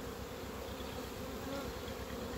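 A small honeybee colony gives a steady, dense buzz, constant and fairly close, with no voices over it.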